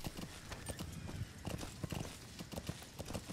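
Horse hooves clip-clopping in Metal Gear Solid V: The Phantom Pain, a quick, even trot of clear hoofbeats, fairly close and alone.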